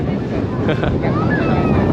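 Cool wind gusts buffet the microphone at a beach in Phetchaburi, a loud steady rumble with faint surf beneath it and brief voices mixed in.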